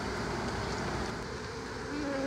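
Gentle, darker honey bees buzzing around a hive in a trash pile, a dense continuous drone close by with no talk.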